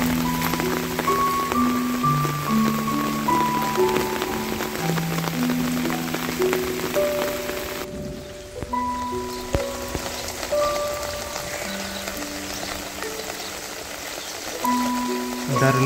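Heavy rain falls steadily on a Punjab village in Pakistan, a dense, constant hiss of drops, with sustained musical tones running over it throughout.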